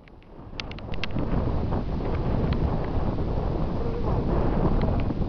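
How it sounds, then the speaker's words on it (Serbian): Wind buffets the microphone outdoors on Kozjak, a steady low rumble that swells within the first second and then roars on without a break, with faint voices in the background. "vetar brzo duva"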